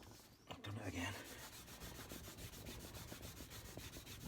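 A Scotch-Brite pad rubs with polishing paste over the domed aluminium cap of a Suzuki GS750 motorcycle in quick, regular rasping strokes, quiet and close, with a brief voice early on.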